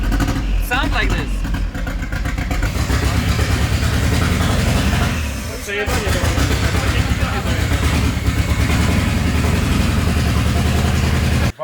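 Nissan 200SX S13 engine idling roughly and unevenly, like a tractor, loud and close throughout with a steady low rumble, while people talk over it.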